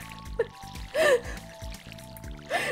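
A watering can pours over crops in Stardew Valley with short splashing bursts, each about a second long, repeated a few times amid game sound effects and music.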